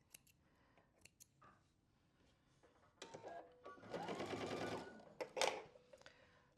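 A sewing machine stitches a quilt block in a short whirring run of about two seconds, with scissor snips and small clicks of handling before and after.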